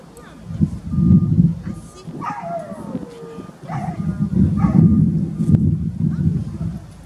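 A Belgian Malinois dog gives yelps, whimpers and short barks, close by and loud, spread through several seconds amid handling noise, with no clear talk.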